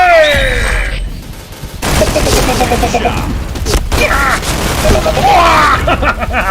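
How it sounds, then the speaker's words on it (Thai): Heavy gunfire bursts and booming blasts, including a grenade explosion, fill a Point Blank online shooter match. Loud, rapid volleys come in clusters while a player talks excitedly over the fighting. "ระเบิดแตก"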